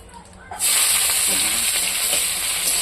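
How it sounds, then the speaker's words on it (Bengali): Onions drop into a hot frying pan with egg and whole cumin for a fish roe curry. After a quiet start, a sudden loud sizzle bursts up and crackles steadily to the end. "গোটা জিরে দিয়ে দিচ্ছি পেঁয়াজ দিয়ে ডিমটা রান্না হবে তারপর পেঁয়াজটা দিয়ে দিচ্ছি এখন"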